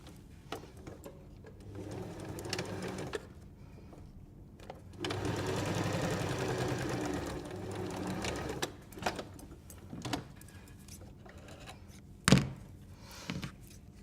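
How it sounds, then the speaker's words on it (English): A sewing machine joins two pieces of fabric right sides together for a cutlery pouch, a quiet run of fast stitching in the middle, with soft handling clicks and a sharp thunk near the end. "I'm going to sew 2 pieces of fabric right sides together at the end"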